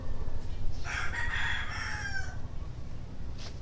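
A bullstag rooster crows once, loud and close, its long call rising and falling over steady low background rumble.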